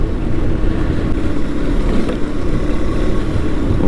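Motorbike on a rough, bumpy road during a one-day ride to Nelliampathi, its engine droning loud and steady with constant rumble and buffeting, no clear separate jolts standing out.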